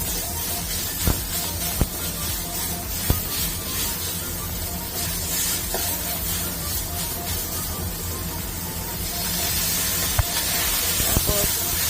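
Minced pork sizzles and hisses in hot oil in a pan, a steady, dense frying crackle with a few sharper pops, continuing throughout at close range.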